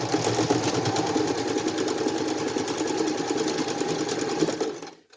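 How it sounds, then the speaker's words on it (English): A sewing machine stitches a fabric face mask in a steady, continuous mechanical whir that runs close and loud for about five seconds before stopping abruptly. "Just make sure you're not sewing the cord."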